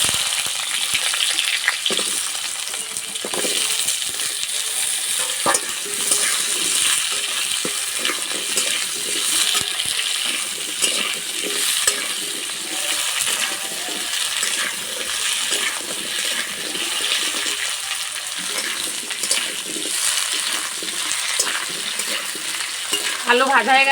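Potatoes fry in hot mustard oil with whole mustard seeds in a kadai, giving a loud, steady sizzle with bursts of crackle and stirring scrapes throughout.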